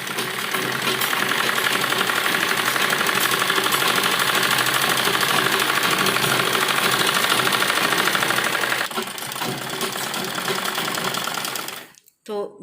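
A sewing machine stitching palazzo fabric with its lining: a loud, fast, unbroken mechanical whir for about nine seconds, then slower, uneven running before it stops abruptly near the end.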